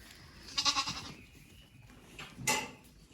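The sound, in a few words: ewes and lambs bleating in pen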